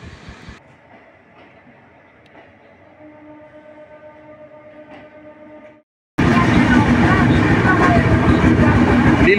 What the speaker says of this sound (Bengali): হাওড়া স্টেশন থেকে ট্রেন বেরিয়ে যাচ্ছে যশোরের উদ্দেশ্যে